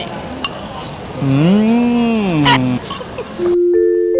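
Steady hot sizzling hiss from a hot stone bowl of Korean bibimbap, with a wavering tonal sound rising over it midway, then a sudden cutoff and a short electronic beep.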